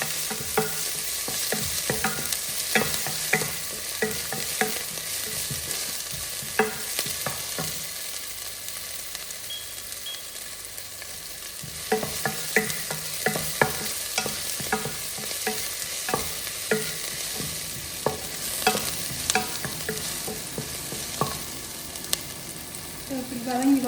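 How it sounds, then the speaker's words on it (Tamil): A ground paste of dried chili, green chili, ginger and garlic sautés in a pan with a constant loud sizzle, broken by frequent rhythmic stirring scrapes and spoon taps close by. "காய்ந்த மிளகாய், பச்சை மிளகாய், இஞ்சி பூண்டு 2 சேர்த்து அரைச்சது நல்லா வதங்க விடுவோம்."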